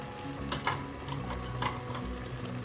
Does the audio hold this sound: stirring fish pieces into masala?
yes